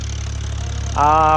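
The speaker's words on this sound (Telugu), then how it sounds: "మొత్తం ఇక్కడికి తెప్పించి అయితే ఒక మోటార్ పెట్టి అయితే తోడుతున్నారు." A motor pump draws out water during dewatering works at a construction site, giving a steady low mechanical drone with a louder, higher-pitched whine that comes in near the end.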